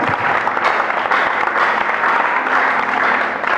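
A church congregation applauds steadily and loudly throughout, with a dense, continuous wash of clapping and faint crowd voices mixed in.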